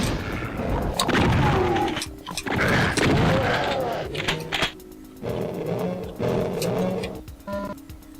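Pinky demon in Doom on the Toxin Refinery level, deep guttural roars and grunts close and loud, broken into several bursts and mixed with booming weapon blasts and game effects.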